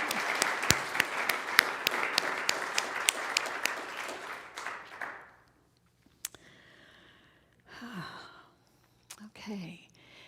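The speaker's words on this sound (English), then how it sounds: "So let's just give a round of applause for all of that richness." Church congregation applauding after a service's music, a dense burst of clapping for about five seconds that fades out, followed by quiet room tone and a few soft voices and breaths.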